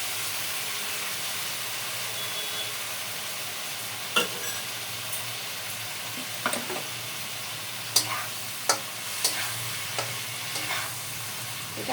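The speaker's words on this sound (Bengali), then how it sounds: "এখন আমি এর মধ্যে সামান্য একটু গরম জল দিয়ে দেবো।" Continuous sizzling and frying of a papaya curry with fish head and prawns, a steady close hiss with a few sharp stirring clicks and spatters near the end, no talking.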